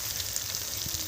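Ginger-garlic paste fries in a pan for a Bengali-style egg korma, giving a steady, close sizzling hiss as it is stirred, with no talking.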